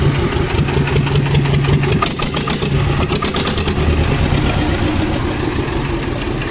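A Swaraj 724 tractor engine runs with its silencer removed. It makes a loud, raw, rapidly pulsing diesel chug that stays steady and close throughout.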